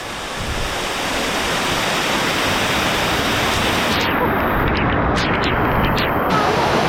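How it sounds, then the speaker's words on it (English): Waterfall in Davao roaring steadily and loudly as a dense, unbroken rush of falling water, close by and filling the whole scene with no break. "This is my favorite waterfall."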